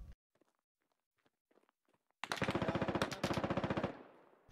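Automatic gunfire in the tactical shooter game SquadOps: a sharp rapid burst of evenly spaced shots lasting under two seconds after a quiet stretch with faint scattered clicks and footsteps.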